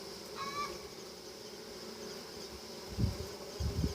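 Honeybees hum in a steady, continuous drone around a hive being merged, a close, even buzz with a few soft knocks near the end.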